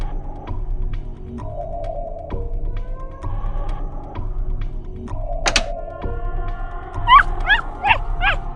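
An injured terrier in the Vet Emergency 2 video game whimpers with soft whines and short yips over background game sounds and clicking, with high cries near the end.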